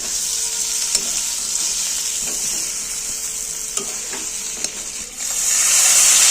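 Soybean chunks and fried potato are stirred together with spices in a hot pan, giving a steady close sizzle with scattered clicks and scrapes from the stirring spoon.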